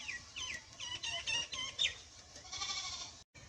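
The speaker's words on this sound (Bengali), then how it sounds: "আর একদিকে ছাগল ম্যাও ম্যাও ম্যাও ম্যাও করে" A goat in a village bleats several times in quick short calls, fairly close but quiet, with a last drawn-out bleat before a brief silence.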